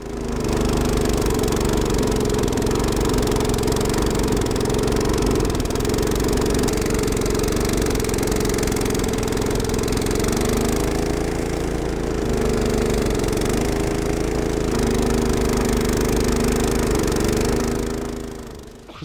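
An Evoline Standard series two-stage tracked snow blower runs under load while clearing snow, its engine giving a loud, steady, continuous drone with slight wavering throughout and no talking.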